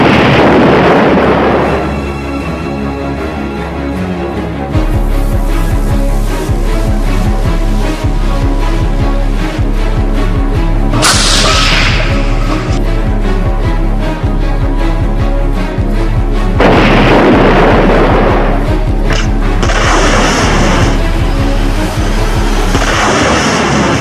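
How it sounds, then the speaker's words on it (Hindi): Rocket launcher attacks in a city during war, a loud continuous barrage of booms and heavy rumbling blasts with repeated sharp impacts, dense and overwhelming throughout with no voices. "शहर के बीच रॉकेट लॉन्चर से हमले।"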